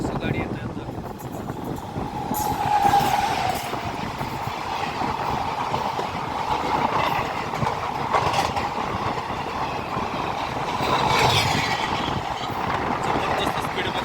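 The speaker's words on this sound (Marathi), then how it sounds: "हो मित्रांनो, WAG-9 लोकोमोटिव्हची गाडी येते आता." A train hauled by a WAG-9 electric locomotive rolls past on the Kolhapur–Pune line, a loud steady rumble with clattering wheels and swelling roar that stays close throughout.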